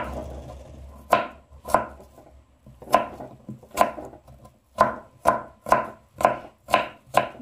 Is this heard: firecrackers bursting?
no